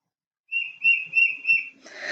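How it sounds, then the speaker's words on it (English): Four clear, high whistled notes from a tufted titmouse in a steady series, each slightly slurred, followed by a short burst of noise. "That's the Tufted Titmouse."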